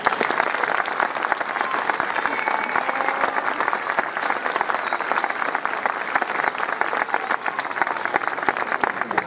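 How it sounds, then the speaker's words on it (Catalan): Loud, sustained applause from the audience at the end of a band concert in Granollers: dense, even clapping with no breaks. A couple of faint whistles rise above it. "fort aplaudiment."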